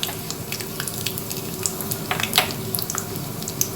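Two dried red chillies dropped into hot oil after chana dal for Tamil garlic rice, a soft close sizzle with light crackles and pops, quiet and continuous, no talk.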